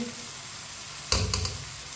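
Crushed green chillies hit hot oil in a pan with a sudden loud sizzle burst, followed by a couple of quick stirring scrapes and a fading crackle, close and without talk.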